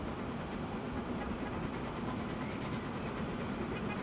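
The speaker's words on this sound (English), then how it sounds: "Have a train on its way in." A train pulls in on a UK mainline in Transport Fever 2, a steady, quiet rumble of wheels and rolling stock with a faint clatter, holding evenly throughout with no voices.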